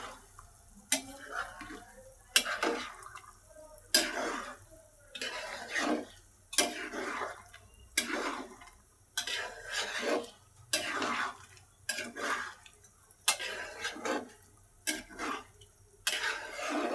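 Beef being stirred in a pan while cooking, heard as a steady series of scraping, clinking strokes repeating about every second, close and fairly loud with no talk over them.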